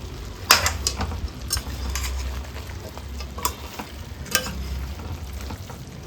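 Pork curry with black masala being stirred in a pan over low heat, Coorg style: a spoon scrapes and clinks against the pan in irregular strokes over a steady soft sizzle, with no talking.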